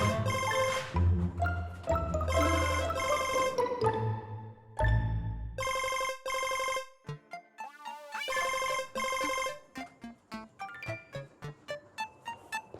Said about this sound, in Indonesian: HP bunyi kok malah diem aja?